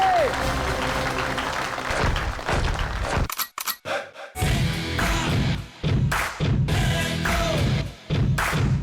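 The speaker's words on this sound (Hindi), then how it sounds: "जोरदार तालियां बजाएं" Loud, sustained audience applause and cheering for the star Faizal at a stage show, with a host's voice over the clapping and a few short pauses.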